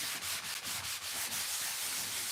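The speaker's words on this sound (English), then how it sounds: "I'm sanding it so that way anywhere that there's wrinkles, you get like a crackle look to it." Paper decoupage on a vintage foam frame is rubbed with a soft 220 sanding pad, giving a close, steady run of rhythmic scratchy strokes, each a brief rasping sweep with no talk.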